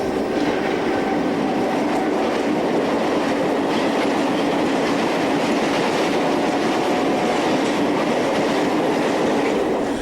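A Portuguese Railways 2500 class electric locomotive hauling a northbound aggregate train passes close by, a loud steady roar of rolling wagons with rhythmic wheel clatter throughout, no talking.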